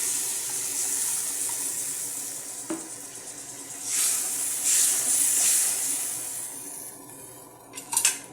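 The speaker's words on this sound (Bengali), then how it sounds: "এখন আমি পরিমাণ মতন জল দিয়ে দিচ্ছি" Water pours into a pan of paneer tikka curry in a home kitchen, a steady hissing splash that swells in bursts midway and ends with a couple of clinks, with no talking.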